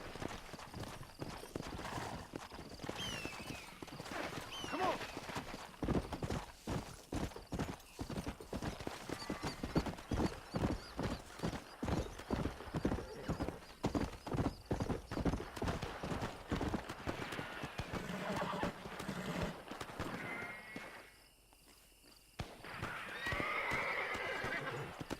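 A horse gallops in Red Dead Redemption, its hoofbeats pounding in a fast, steady rhythm for most of the stretch, with neighs mixed in and a brief lull near the end before the running resumes.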